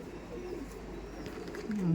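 Pigeons cooing close by, a soft low rolling coo that swells near the end, over faint room noise.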